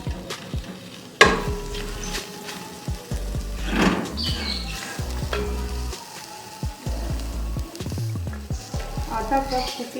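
Medium-sized sliced onions frying in oil in a pan, a close hissing sizzle with bursts of stirring and spatula scrapes, one sharp clatter near the start, and no talking.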